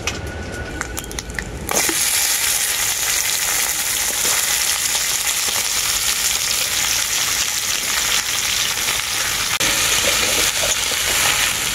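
Potato, taro, ridge gourd and amaranth stems hit hot oil in a wok with a sudden loud rush, then crackle in a dense, steady sizzle close up.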